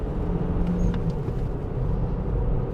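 A Chevrolet Cruze 1.4 turbo with 140 hp driving at around 100 km/h in third gear, giving a steady, close engine and road rumble heard alone throughout.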